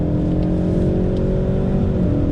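A 2019 Ford Mustang EcoBoost, rear-wheel drive, accelerates hard out of a bend, its engine droning loud and close with a steady rising rev and no talk over it.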